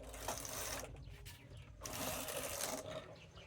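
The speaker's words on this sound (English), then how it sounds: "I'm going to knit one row right now." Knitting machine carriage sweeping across one row of yarn for a baby shoe, two loud rasping, whirring passes separated by a brief pause, close and alone.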